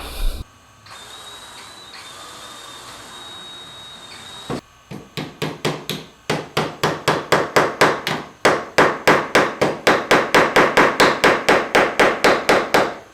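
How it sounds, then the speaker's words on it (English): Repeated sharp hammer strikes driving a tiny brad nail into a wooden bandsaw insert, starting after a few seconds of quiet and growing louder, steady rhythmic blows close by. "drill a hole in each side of the circle and put a little tiny brad in there"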